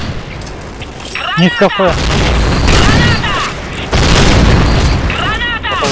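Grenade explosions in the shooter game Point Blank, a heavy boom followed by another loud burst a few seconds later, mixed with gunfire and game effects while players talk over the action.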